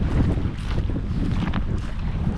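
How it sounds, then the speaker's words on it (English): Strong wind blows beside a lake on an evening walk, a steady loud rumbling buffet with gusty rushes across the microphone and no voices. "that wind still hasn't buggered off yet"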